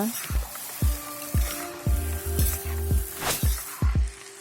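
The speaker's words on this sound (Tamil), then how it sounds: "ஊற வச்சுருக்கிற ஜவ்வரிசியையும் சேர்த்து நல்லா மிக்ஸ் பண்ணி விடுங்க." Soaked sago pearls and onions stirred in a frying pan while cooking sabudana upma: a steady sizzle under about a dozen spoon scrapes, close and clear, with no talking.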